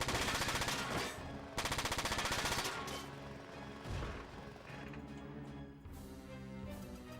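Two rapid, rattling bursts of machine gun fire from a Front Mission 4 mech battle ring out loud and close, each lasting about a second, then give way to ringing tonal game sounds and music.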